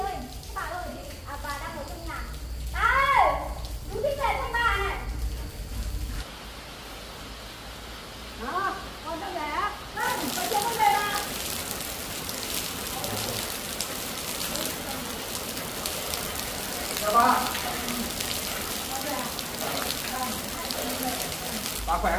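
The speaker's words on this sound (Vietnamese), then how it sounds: "Hôm nay trời mưa mẹ." Steady rain patters on a surface for over twenty seconds, a continuous wash of drops that grows denser partway through, while people talk over it for much of the time.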